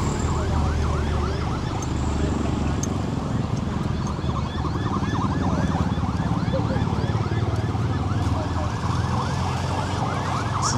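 A wailing ambulance siren sweeps up and down repeatedly, somewhat distant and partly masked by steady traffic rumble and background noise, during a flood in Hat Yai, Thailand.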